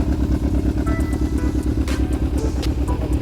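Yamaha XJ400 Diversion motorcycle engine idling after a carburetor overhaul with the fuel screws being set, a close, loud, steady pulsing putter with light mechanical clatter.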